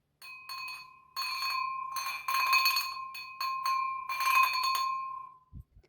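Ribbed champagne glasses clink several times in a row, each strike ringing out with a clear, bright tone that lingers, followed by a couple of soft knocks at the end.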